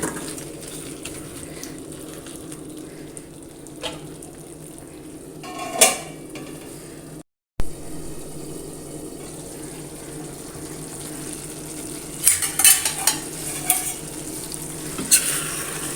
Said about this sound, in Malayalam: ചിക്കനിൽ നിന്നൊക്കെ വെള്ളം ഇറങ്ങി വന്നിട്ടുണ്ട് നന്നായിട്ട് നമ്മൾ ഇതേപോലെ ഒന്നും കൂടി വേവിച്ചെടുക്കാം